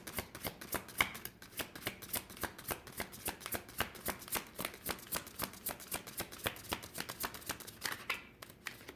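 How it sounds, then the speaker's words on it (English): Tarot cards being shuffled and flipped by hand, a rapid, even run of crisp close riffling snaps that continues for several seconds, alone with no talking. "These cards have such a hard time flipping"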